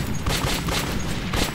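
Gunfire in the first-person shooter Metro 2033, a steady wash of dense, overlapping shots and booms filling the space without a break, loud and close, with no voices over it.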